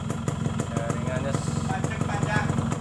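A Yamaha RX-King two-stroke motorcycle engine idles close by with a rapid, steady popping putter and metallic rattle, while someone talks over it.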